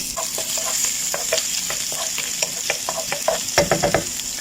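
Garlic frying in a little oil in a pan, giving a steady close sizzle with scraping stir strokes and louder crackles near the end.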